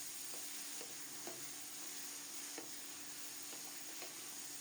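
Ridge gourd, onion and whole garlic cloves fry in oil over a whole-cumin tempering in a pan used for fish. A steady, soft sizzling hiss runs throughout, with a few faint stirring clicks and no talk.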